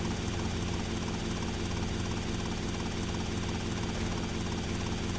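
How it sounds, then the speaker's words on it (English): Helicopter in GTA Vice City Definitive Edition, a steady, loud rotor and engine drone that holds constant throughout with no variation and no voices over it. "thank God I found a helicopter here"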